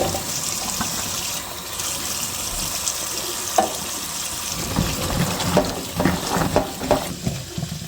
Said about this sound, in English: we are going to rinse and drain them real well